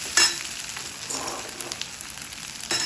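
Chopped carrot muthiya are stirred into a sizzling sesame-seed tempering, a close, steady frying hiss with occasional spoon scrapes and small pops.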